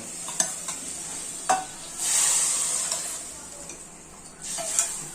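A spoon stirs sautéed onions and curry leaves in a pan, giving a few sharp scrapes and clicks over a bed of sizzling that swells in two longer hissing bursts.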